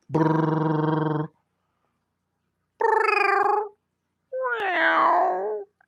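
A person imitates a cat with three drawn-out, loud vocal meows separated by short silences, the last one wavering and rising in pitch.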